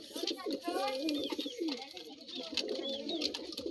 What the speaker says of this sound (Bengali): তো সব কবুতরগুলোই আসে এখানে, যেগুলো কবুতর আছে